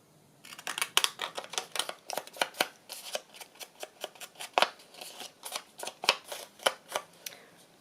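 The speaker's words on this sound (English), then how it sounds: "Maybe I'll cut it with my decollage type scissors." Decollage scissors snip through paper in a steady run of sharp, close cuts, about two or three per second, with no talking.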